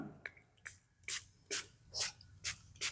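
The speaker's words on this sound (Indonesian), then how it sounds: "Kita semprot ke bagian bunga." Hand sanitizer alcohol sprayed from a pump bottle onto a butterfly pea flower, about six short hissing bursts spaced roughly half a second apart, close and fairly quiet with no talking.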